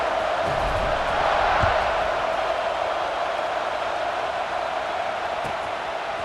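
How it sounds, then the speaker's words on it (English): Stadium crowd in the EA Sports College Football 26 video game, a continuous buzzing roar of many voices that surges briefly early on, then holds steady and fairly loud. "this crowd is buzzing after that last score"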